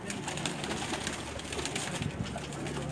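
Soft cooing of Teddy pigeons over a steady, noisy background, fairly faint and somewhat distant.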